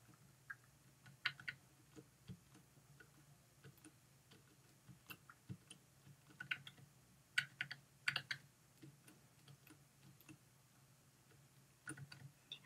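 Fingers tapping a computer keyboard during a Minecraft session, irregular bursts of light clicks and keystrokes, fairly close but quiet over a faint steady hum, with no voices.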